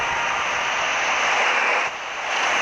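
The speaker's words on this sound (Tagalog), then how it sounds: "helicopter, helicopter, copter." Helicopter in the Roblox game Melon Sandbox, a loud, steady whooshing engine roar with a brief dip near the end.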